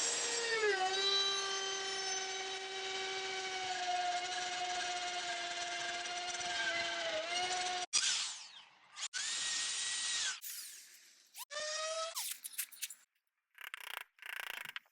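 A router cuts a groove for a slat into wooden beams strapped together for a loft-style bench: a loud, steady high whine for several seconds, then short on-off bursts as the tool stops and restarts.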